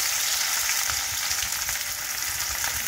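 Onion frying in hot oil in a pan makes a loud, continuous hissing sizzle with fine crackle throughout.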